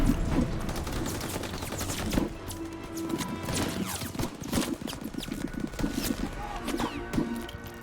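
Mixed gunfire and machine gun bursts in Call of Duty WWII, with sharp crashes and thumps scattered across a busy, continuous battlefield din.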